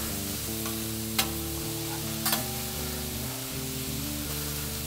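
Onions and steak sizzle steadily on a griddle for a French onion Philly cheesesteak, a dense frying hiss with two brief scraping clicks as the meat is flipped.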